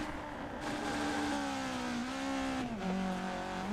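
Simulated race car engine in a racing video game esports championship, holding high revs in a sustained whining drone that dips and rises slightly, with overlapping car engine tones and no talk.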